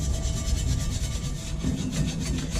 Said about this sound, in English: I'm going to kind of give it a good scuffing like this.